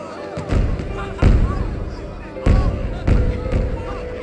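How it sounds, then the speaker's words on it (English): Fireworks bursting outdoors in a Pokémon detective game scene, several loud booming thuds spaced a second or so apart with crackling tails, while people talk over them. "The fireworks have started."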